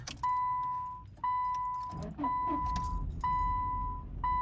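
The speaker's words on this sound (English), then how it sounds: "it turns out it's just the engine or whatever is going on bouncing the car" A car idles roughly with a repeating electronic chime beeping over it, the engine stumbling and shuddering midway, heard from inside the vehicle.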